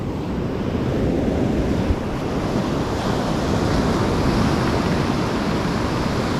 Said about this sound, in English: Lovely sea.